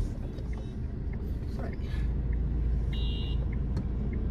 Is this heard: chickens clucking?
no